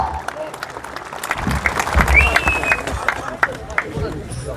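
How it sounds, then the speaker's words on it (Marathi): Crowd applause at a Zilla Parishad and Panchayat Samiti party workers' rally in Zare, Atpadi, steady clapping and cheering throughout with a loud swell in the middle, voices mixed into the din. "सगळ्यांनी जोरदार अजून एकदा जोरदार टाळ्या द्या"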